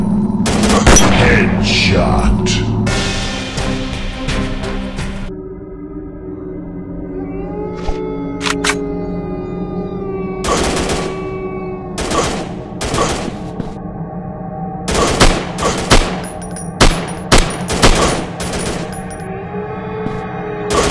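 Gunfire in a World War FPS shooter mobile game: repeated sharp shots and bursts crack out in irregular clusters, with a dense volley early on and spaced single reports later, loud over game ambience.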